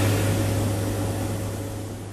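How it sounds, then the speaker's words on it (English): Steady, loud drone of C-130 hurricane hunter aircraft engines inside the cabin, a constant low hum with a broad roar and no voices. "that's a deafening sound on board an C-130 plane"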